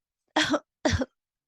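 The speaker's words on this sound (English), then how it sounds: "You have to add that cough there." Two short, sharp coughs close by, evenly spaced about half a second apart, then silence.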